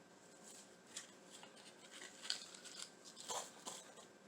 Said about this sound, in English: just cut it.